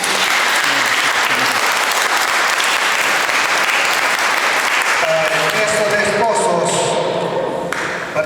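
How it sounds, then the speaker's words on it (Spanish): Wedding guests in a church applaud loudly, a dense, unbroken wash of clapping from a large crowd that fills the whole stretch, with faint voices underneath. "Fuertes palmas."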